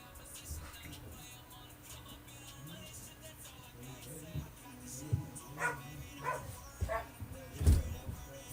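Dogs bark indoors, several short sharp barks coming in irregular bursts toward the end, fairly close, with faint room noise and some voices underneath.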